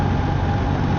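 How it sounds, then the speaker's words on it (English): BMW R1300RT motorcycle engine running steadily with a constant low drone and a faint tonal hum, close and continuous with no distinct throttle blip standing out. "it's changed down, snicked down to 5th, 4th, 3rd with a little blip of throttle"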